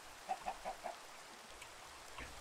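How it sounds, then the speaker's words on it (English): A Minecraft chicken gives a quick run of four soft clucks, then fainter scattered clucks over a quiet, faintly hissing background; no voices. "I've got some chickens."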